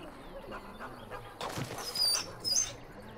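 A dog whimpers and yips in Dragon Age: Origins, with soft, brief whines rising near the end over quiet game ambience.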